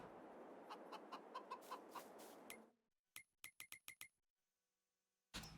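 Chickens in Farming Simulator 22 clucking in a run of sharp, evenly spaced calls, first over a busy noisy bed, then alone against near silence, ending with a brief burst of noise.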